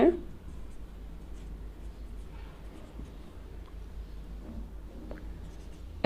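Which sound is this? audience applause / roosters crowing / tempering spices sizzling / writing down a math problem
writing down a math problem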